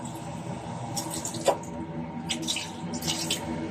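Water poured into a cooking pot while making mandi rice with a pinch of turmeric, a soft running trickle and splashy drips close by, one sharper splash midway, no speech.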